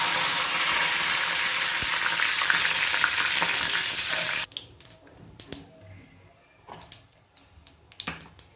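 Curry leaves dropped into hot oil for a peanut and dal chutney, with a loud steady sizzle for several seconds that abruptly cuts off, followed by scattered sharp crackles and pops alone.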